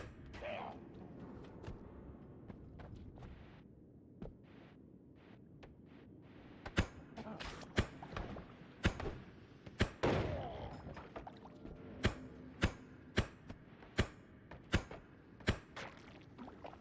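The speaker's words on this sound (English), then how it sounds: "Okay, shotgun. More shotguns." Shotgun blasts in a video game: after a stretch of quieter background sound, about a dozen sharp, loud reports ring out at a fairly steady pace, each one a distinct, punchy crack.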